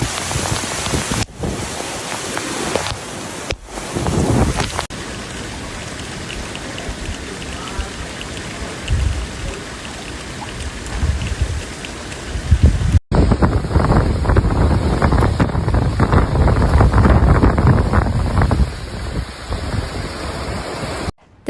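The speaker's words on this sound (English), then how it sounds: "Debby brings 60 miles per hour wind to the region." Tropical Storm Debby lashing Fort Myers, Florida with heavy rain and roaring wind buffeting the microphone, a loud continuous wash that grows harsher midway and carries on with no talk.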